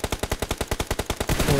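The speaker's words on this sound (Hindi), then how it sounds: "ऊपर से फायर आए हैं" Rapid automatic gunfire in the video game PUBG Mobile, a steady burst of about a dozen loud, evenly spaced shots, close and dominant, ending in a rough wash of noise.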